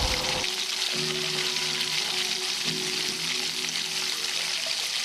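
Broccoli, capsicum and carrot sizzle steadily in a hot pan, with a continuous close frying hiss and a few soft stirring clunks, no voices.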